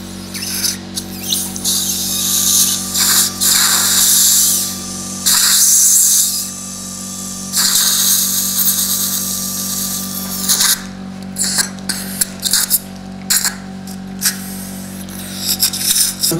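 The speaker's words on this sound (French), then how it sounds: "Un instrument qui est un forêt de taille réduite." A small dental implant drill whines steadily in a dental clinic, running in repeated bursts with short pauses, loud and close, alongside faint scraping.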